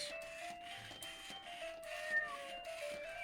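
A Power Kitty Jr remote control robot toy kitten emits soft, repeated electronic meows with a steady tonal hum, faint and close, with no talking.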